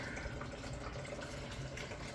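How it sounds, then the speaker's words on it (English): Coolant drains from a Ram Ecodiesel engine's OAT cooling system in a faint, steady trickle of running liquid that pours continuously without pause. "now I'm draining it"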